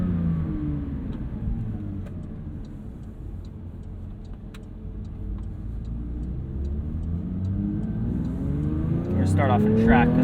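Porsche 992 911 GT3 flat-six engine accelerating on a manual drive, a rising engine note climbing steadily and growing louder toward the end, heard from inside the car with a voice speaking over it.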